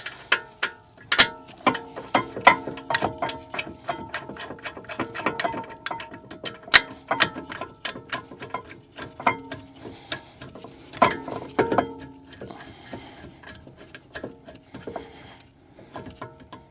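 Ratchet clicking in repeated bursts as caliper bolts are run back down during a front and rear brake replacement on a Mercedes C300 AMG Sport, with metallic ticks and pauses between runs.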